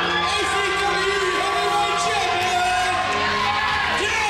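A wrestling crowd erupts in loud, sustained cheering, whooping and yelling as a new heavyweight champion is crowned at an ACW event, with dense roaring noise throughout and a commentator's voice mixed into the din.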